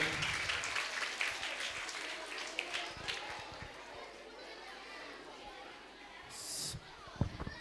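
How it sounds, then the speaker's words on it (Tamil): Sustained applause from a crowd at a school annual day function in Vellore, clapping spread through the clip and gradually thinning, with scattered chatter and voices mixed in. "பலத்த கைத்தட்டல் தருமாறு அன்போடு கேட்டுக்கொள்கின்றேன்"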